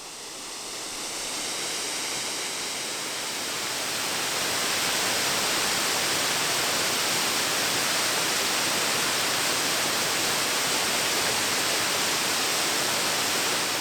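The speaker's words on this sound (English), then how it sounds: "the waterfall has a little bit more water in it, a little bit more flow" A steady, roaring rush of brown, high-flowing water falling over a sandstone cliff, broadband and constant, growing slightly louder early on and then holding steady with no voices.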